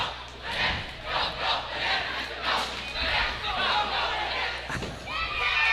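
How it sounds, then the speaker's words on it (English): A high school basketball student section cheers and chants during a boys playoff game against Spooner, a rowdy crowd roar swelling in waves through the gym, mixed with chatter and some shouting voices. "We have a cheer out of the student section here, a little going bananas."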